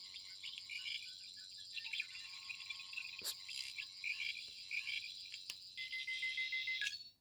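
A Fifteenth Doctor deluxe edition toy sonic screwdriver emits a warbling high electronic diagnostic whine with pulsing tones, steady and fairly faint, interrupted by a couple of sharp clicks.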